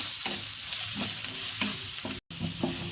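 Onions and curry leaves sautéing in a pan with steady sizzling and frequent stirring scrapes, close and continuous, broken by a brief dropout near the end.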